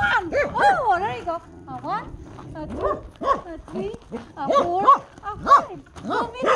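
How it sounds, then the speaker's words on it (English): A corgi whimpers and yips in quick, high, wavering bursts close by, the excited cries running almost continuously with short gaps and a few sharper yaps. "come meet my corgi doggy"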